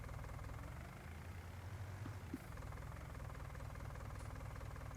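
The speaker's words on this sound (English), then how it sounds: "Oh, nice engine sound." Tractor engine in the video game Farming Simulator 19 runs as a steady, loud low drone with a constant hum, holding even throughout with a brief faint click partway through and no voices.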